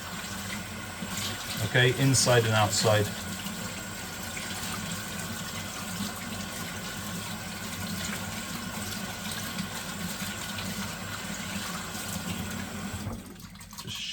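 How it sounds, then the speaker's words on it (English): A 3M reusable respirator mask is rinsed under fresh running tap water, a steady broadband splash that continues at moderate level with a person briefly talking over it, ending abruptly near the close. "get some clean water, okay, fresh water from the tap, and just rinse the mask"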